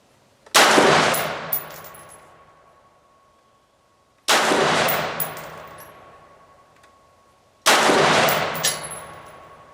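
Three loud gunshots from an AR 601 rifle firing PMC X-Tac ammunition during outdoor ammo testing, spaced a few seconds apart, each a sharp crack with a ringing decay.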